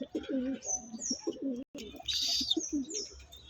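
Andhra pigeons coo close by in a repeated rolling rhythm, several throaty calls in a row, with brief higher chirps and a short flutter of wings in between.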